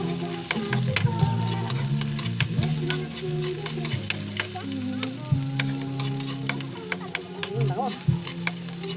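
Onion and garlic sizzle steadily in a hot pan, with a spoon or spatula scraping and clicking as it stirs; close, continuous frying with no talk over it.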